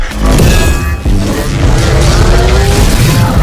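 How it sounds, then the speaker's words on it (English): A lightning sound effect, a loud sustained crackling, rumbling roar of dense noise with a sharp burst near the start, played alone. "That's the sound of lightning."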